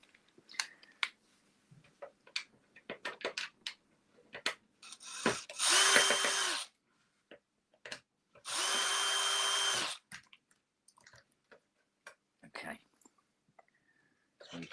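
A power drill backing screws out of a small board in a workshop, two loud whirring bursts of about a second each amid scattered clicks and handling knocks, close by with a person speaking.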